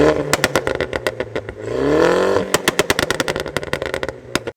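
A Renault Megane RS 250 engine is blipped in the rain; a swelling rev rises and falls in the middle, surrounded by sharp, rapid clattering pops and ticks that crowd the start and end.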